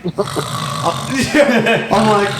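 A voice makes a rough, rumbling snore-like sound imitating an idling Premier car engine, close and steady for a couple of seconds.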